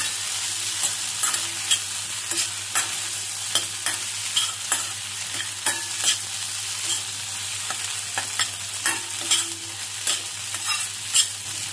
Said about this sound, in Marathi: अद्रक टाकूया बारीक चिरलेलं। एखाद मिनिट हे पण परतून घेऊया।